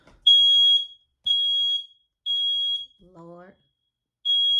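A smoke detector set off by burning sage gives loud, piercing beeps about once a second, four in all, with a brief spoken exclamation squeezed into one gap.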